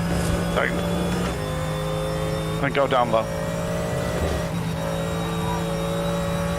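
A Mercedes GT3 Evo race car engine in a racing video game, on the Nordschleife, roars steadily with sharp shifts and revs, while someone speaks briefly over the droning motor.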